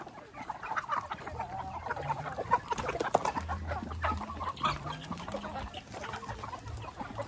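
A flock of native chickens in a breeding pen clucks busily at feeding time, with overlapping close and distant clucks going on throughout and no talking.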